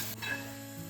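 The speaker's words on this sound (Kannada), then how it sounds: "ಈಗ ಒಗ್ಗರಣೆನ ಮೊಸರು ಬಜ್ಜಿಗೆ ಸೇರಿಸ್ಕೊತಾ ಇದ್ದೀನಿ." Hot tempering of chana dal and green chillies is poured into curd bajji, setting off a sudden sharp sizzle up close that quickly settles into a softer hiss.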